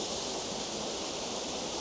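Steady, close rushing of water flowing toward the 4 Angels Waterfall, a dense unbroken hiss with no pauses or other sounds.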